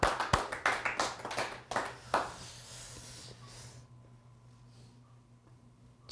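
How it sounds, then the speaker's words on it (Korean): A church congregation claps together, with scattered loud hand claps that thin out after about two seconds and fade into quiet room tone, heard fairly close with no voices. "하나님께 영광 박수."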